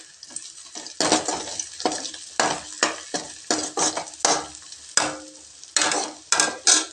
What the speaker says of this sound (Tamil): வெங்காயம் முந்திரி எல்லாம் நல்லா செவக்க வதங்கி வந்துடுச்சிங்க.